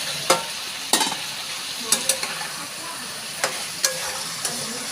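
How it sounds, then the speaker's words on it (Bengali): Fried potatoes and eggplant go into a pan for ilish macher jhol, a low steady sizzle broken by about eight sharp spoon scrapes and knocks as they are stirred. "এর মধ্যে ভেজে রাখা আলু দিয়ে দেব, তারপরে দিয়ে দেব বেগুন।"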